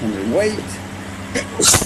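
A single short sneeze bursts out at the end, close and fairly loud, after a few moments of people talking over a low background rumble.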